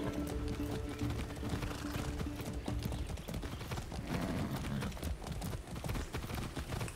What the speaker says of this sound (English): How am I getting cardio? I'm riding a horse.